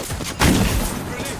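Gunfire during an Apex Legends battle royale match, a sharp burst of shots erupting near the start and continuing as dense overlapping bursts, fairly loud and close, with game noise and some talk around it.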